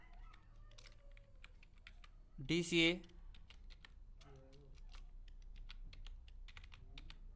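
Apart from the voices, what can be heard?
typing on a computer keyboard into an Excel sheet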